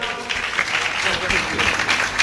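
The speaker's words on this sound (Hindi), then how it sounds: "तालियां बजाइए एक बार।" Applause from a seated audience at a Hindi comic poetry (hasya kavi) gathering in Mandsaur, a steady wash of clapping running throughout with a voice talking over it.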